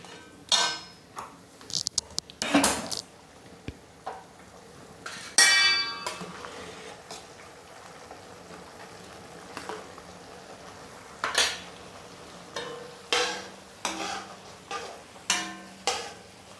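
Yogurt stirred with tomatoes in a pot for veg dum biryani, a spoon clinking and scraping against metal in scattered bursts with quiet gaps between, close and clear with no talking.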